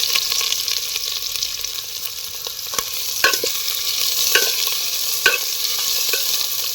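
Chopped onion fries in oil with bay leaf and dried red chili beside the Churni river, a loud continuous close-up sizzle punctuated by several sharp spatula scrapes against the pan.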